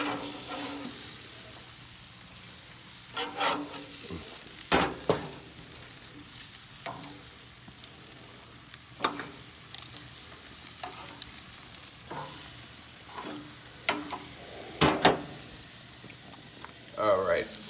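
Salmon sears in a hot pan with a steady low sizzle, broken by repeated scraping and stirring clatter from a utensil over nearly eighteen seconds, no talking.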